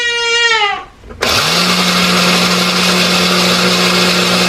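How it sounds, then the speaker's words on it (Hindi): After a brief high-pitched whine, a mixer grinder grinding a dal and rice mix starts abruptly. It runs as a loud, steady, close whirring drone until the end. "अभी मुझे इसे ग्राइंड करना है"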